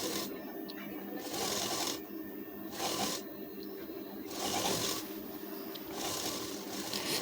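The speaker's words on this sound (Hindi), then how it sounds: "सिलाई को डबल कर देंगे" A sewing machine stitches a blouse seam in short bursts of soft, rapid clatter, separated by brief pauses and fabric handling. It sounds fairly quiet and close.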